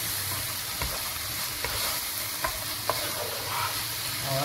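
Chicken is stirred into a pan of frying masala for fajita pasta. A steady, close sizzle runs throughout, with occasional soft scrapes and knocks of the spoon as it is mixed.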